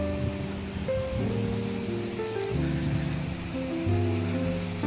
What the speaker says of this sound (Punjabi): ਇਹ ਉਹ ਨਦੀ ਆ ਗਲੇਸ਼ੀਅਰ ਵਾਲੀ